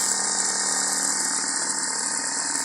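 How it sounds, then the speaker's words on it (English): A rotovertor motor coupled to a DRMG runs at a constant speed. It makes a steady, close mechanical hum and whir with a faint rattle from a slightly loose bearing, and no one speaks. "There's a little rattly bearing, not too bad."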